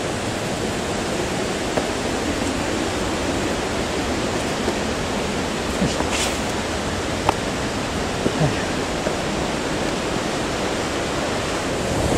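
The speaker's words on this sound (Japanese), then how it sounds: "多分これがなえな滝でしょうね" Naena Falls, a large waterfall in Myōkō, Niigata, gives a continuous broadband roar of falling water, steady and full with no breaks, carrying a few faint scattered sounds.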